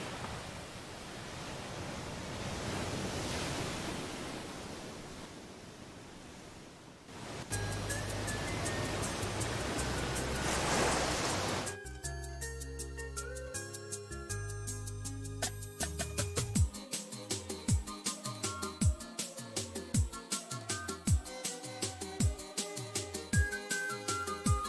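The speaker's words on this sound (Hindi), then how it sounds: "आज नीचे का पानी बहुत तेज खींच रहा है" A strong river current pulls hard below, heard as a steady, dense rushing roar for several seconds before music swells in and takes over.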